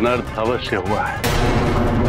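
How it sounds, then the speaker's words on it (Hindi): A booming crash from Ravana's mace in battle in a Hindi mythological TV series erupts as a loud, rumbling broadband blast, right after someone speaks briefly. "ये तो दशानन की गदा की ध्वनि थी"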